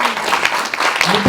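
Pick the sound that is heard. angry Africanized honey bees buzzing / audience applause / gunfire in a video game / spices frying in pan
audience applause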